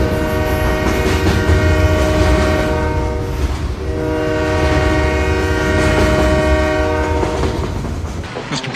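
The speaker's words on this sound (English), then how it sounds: "you're standing on the tracks and the train's coming through Butthead." A train roars past at close range, loud and continuous, with wheels rumbling on the track and a long, blaring multi-tone horn held across the whole pass. No voices are heard.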